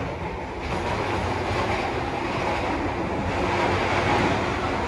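Steady, loud rumble of a moving train heard from inside a busy dining car, a continuous broadband roar with faint rail clatter running throughout.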